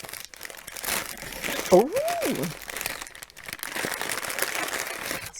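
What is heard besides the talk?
handling a piece of white card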